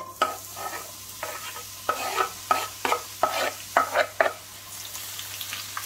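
Potatoes and chicken lardons hit hot oil in a pan, giving a steady sizzle broken by a string of sharp stirring scrapes and clatters, close and fairly loud, with no talking.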